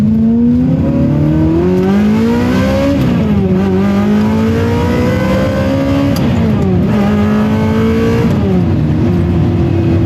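Ferrari 360 V8 with a DIY gated manual conversion revving hard toward a 9,000 RPM redline, a loud continuous high-pitched scream with rising pitch sweeps and brief dips between pulls, close and alone without talk.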